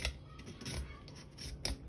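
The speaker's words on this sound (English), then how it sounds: "Cutting through this bamboo like it was butter." A mini hacksaw knife cuts through bamboo in quiet, scratchy rasping strokes, a few back-and-forth passes heard close and alone.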